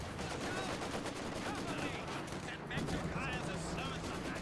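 Sustained automatic gunfire rattles from a shooter video game during a competitive playoff match, a dense continuous barrage with caster commentary running over it throughout.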